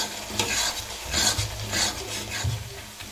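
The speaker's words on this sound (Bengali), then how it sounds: "আদা রসুন কাঁচা লঙ্কা খুব ভালোভাবে ভেজে কষিয়ে নিতে হবে" Ginger, garlic and green chilli paste frying in a pan, stirred repeatedly: a close sizzle broken by several scraping strokes at a steady pace, with no speech.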